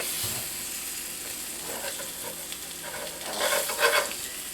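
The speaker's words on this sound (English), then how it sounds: "now we're going to add our short ribs back" Beef short ribs go back into a pot with flour-coated mirepoix, giving a soft, steady sizzle close by with scraping stirs, swelling louder near the end.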